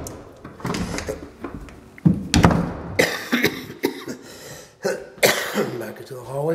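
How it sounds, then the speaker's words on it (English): Several rough coughs and throat clearing, some close and loud, mixed with rustling and bumping in a room. "Sorry for the coughing."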